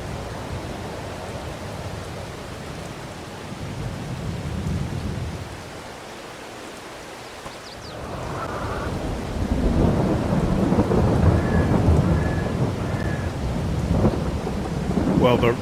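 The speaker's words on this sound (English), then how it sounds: "Alright, well, we'll wait for the rain to stop," Steady rain and rumbling thunder in the farming game Farming Simulator 22, a continuous wash of falling rain with low thunder rolling in, dipping briefly before swelling louder and heavier toward the end.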